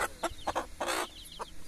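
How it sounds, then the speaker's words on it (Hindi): A hen, one of several fancy hens kept for eggs and chicks, clucks in short, loud, close bursts with brief pauses between, a quick run of sharp calls. "ये एक मुर्गी मुझे नज़र आ गई थी, दरी पास घूम रही थी।"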